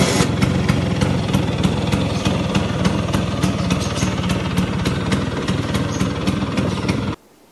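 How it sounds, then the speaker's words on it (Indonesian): A 1979 Vespa PX MK1 scooter engine idling, a loud close two-stroke putter with a fast, even rhythm that runs steadily until it cuts off. "Lo dengerin aja dah nih suara mesinnya."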